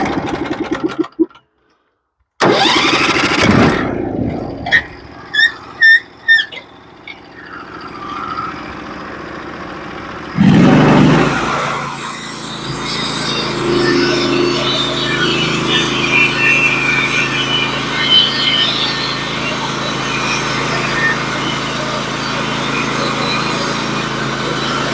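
A Norwood HD36v2 sawmill cuts a white oak log for a mantle, its engine running steadily through the second half after some clanks and bursts early on, with a band saw hiss across the upper range.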